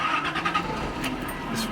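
Engine of a Nissan Z car with a coolant leak and worn brakes, heard turning over and catching, then running steadily close by with a few squeaks on top.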